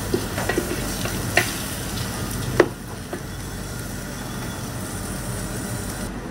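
Steady sizzling of rice frying in a pan, with scattered clicks and scrapes as it is stirred, fairly close and continuous with no voices.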